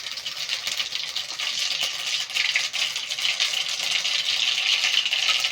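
Mustard seeds spluttering and popping in hot oil in a pan, a continuous crackling, rattling sizzle with rapid tiny bursts, close and fairly loud, no voices over it.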